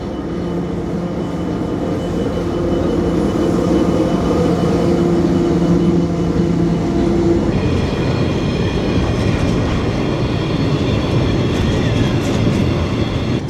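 A freight train rolls through Rockhampton's main street, a loud, steady rumble and clatter of wagons close by, with a sustained horn-like tone early on and continuous rail noise throughout, no voices.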